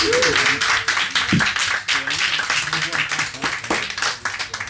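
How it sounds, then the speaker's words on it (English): Audience at a film screening claps and applauds in a round, dense and fairly loud, with voices and cheers mixed through it. "So I think we all deserve a round of applause for that."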